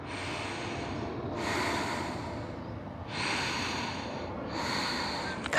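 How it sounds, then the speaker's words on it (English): Steady breathing while holding a yoga pose in a morning flow session: three long, close breaths with an airy, rushing sound, one after another in an even rhythm, and no talking. "Two more breaths."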